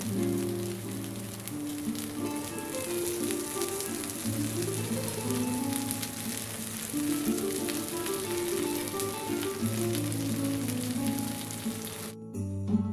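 Pathrode rolls of colocasia leaf cooking gently in oil on a low flame, a continuous soft sizzle and crackle, close and even, with background music running under it until it cuts out near the end.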